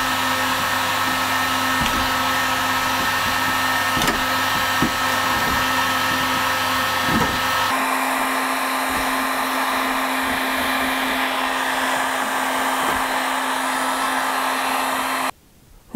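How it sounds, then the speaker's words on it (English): A heat gun stripping paint from a guitar body blows a loud, steady electric whine and rush that shifts in tone partway through, then cuts off abruptly near the end, with no talk. "I've rearranged the guitar so it's flat down, pointing out towards me so I can try and get the heat gun more into where the horn is"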